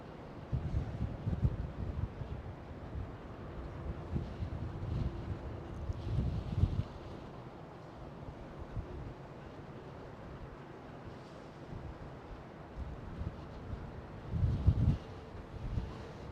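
Gusty wind buffets an outdoor microphone at Schiphol airport in Amsterdam, a steady low rumble with stronger gusts swelling near the start and again toward the end.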